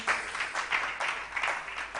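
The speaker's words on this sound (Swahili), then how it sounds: "Muhurire makofi twi hamwe nake." A church congregation at a prayer and fasting service claps together, a dense burst of applause with rhythmic surges, close and lively, lasting the whole short stretch.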